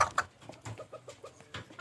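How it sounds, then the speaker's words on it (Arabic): Young ducks being raised at home give a series of short, repeated calls, a handful of clear peeping notes spaced irregularly, fairly close and with no talking. "البط ده عمره صغير."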